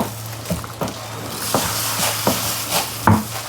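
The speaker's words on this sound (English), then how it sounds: "So let's mix this grain in." Grain being stirred into water for a mash, a wet sloshing and scraping that comes in short, uneven pulls over a steady low hum, close and fairly loud, with no talking.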